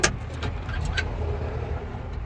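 A 1964 Ford F100 pickup with a dead battery gives a few weak clicks and faint mechanical rattles when a start is tried, then a low steady hum with no engine catching.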